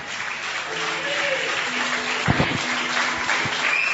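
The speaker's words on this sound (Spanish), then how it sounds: "Dale fuertes palmas al Señor." A church congregation during a retreat service gives the Lord loud, steady applause. It sounds like a dense, continuous roar of clapping, with some voices and faint tones mixed in under it.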